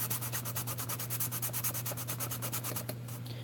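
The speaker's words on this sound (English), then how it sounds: "First of all, you want to sand it down and get it to where it's smooth." Sandpaper rubbing over Mini car bodywork in quick, even back-and-forth strokes, about eight per second, close and steady with no talk, easing off just before the end.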